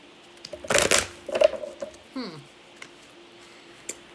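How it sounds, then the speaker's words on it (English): A quick riffle of tarot cards being shuffled, followed by a few soft slides and taps as the deck is squared up, close and fairly quiet. "I can't believe that I just shuffled these like this."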